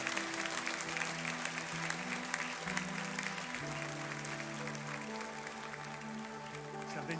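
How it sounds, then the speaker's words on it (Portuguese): A church congregation applauds in a sustained, even roar of clapping, while sustained musical tones from a keyboard or organ drone underneath and shift pitch. "Pode aplaudir a Jesus pela vida desse povo."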